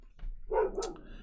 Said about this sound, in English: And there goes the dog again.